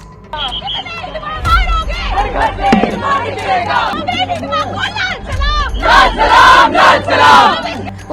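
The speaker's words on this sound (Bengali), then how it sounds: "দিল্লিতে দূষণ বিরোধী আন্দোলনে হঠাৎ করে হিডমার সমর্থনে দেখা যায় স্লোগান, হাজার লক্ষ হিডমা তৈরির আওয়াজ" A protest crowd in Delhi, at an anti-pollution demonstration, chants slogans in support of Hidma: loud, close, rhythmic shouting in unison with overlapping voices and crowd noise.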